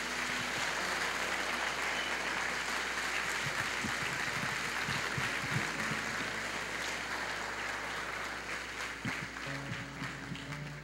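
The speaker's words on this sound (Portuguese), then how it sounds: "Então dá uma salva de palmas para Jesus" Congregation applauding Jesus during a church service, a steady broadband wash of clapping sustained across the whole stretch at moderate level, with faint background hum and no clear talk.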